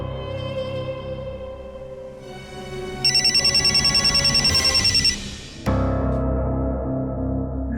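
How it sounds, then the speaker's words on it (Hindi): A telephone rings with a bright electronic trill over a loud music score, the ringing pulsing steadily for a couple of seconds before the music swells again, no one speaking. "हाँ, फोन आया है।"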